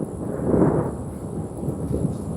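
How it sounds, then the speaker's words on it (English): Thunder during a rainstorm, a low, broad rumble that swells and fades over a couple of seconds, fairly distant and moderately loud, with no voices. "I know you heard the thunder."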